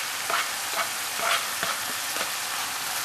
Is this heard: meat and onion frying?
yes